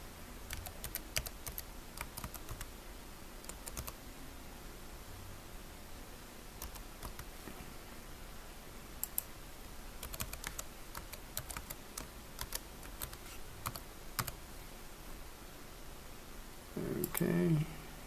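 An administrative password is typed on a computer keyboard, a steady run of close, crisp key clicks with scattered louder taps, continuing for many seconds with a short rustle near the end.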